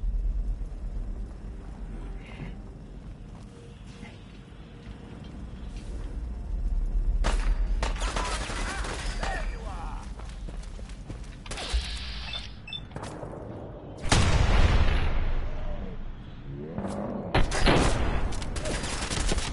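Gunfire in Fallout 4 on PS5: bursts of shots and rattling mechanical clatter come in uneven clusters, with louder volleys near the middle and end over a low rumbling background.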